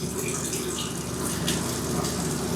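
Hot water runs steadily from a tap fed by a small on-demand water heater, a continuous loud splashing rush with no pauses.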